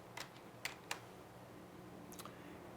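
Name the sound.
computer keyboard keystrokes, Control-Shift-5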